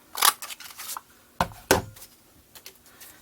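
Scissors snip a few times through cardstock while a small paper Minion card pocket is trimmed, giving sharp, close cuts with brief pauses in between and no talking.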